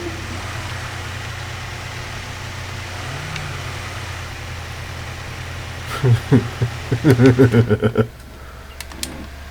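A small, weak car from the off-road truck game SnowRunner, its engine idling steadily and low at first, then revving in a loud burst of several surges before settling quieter.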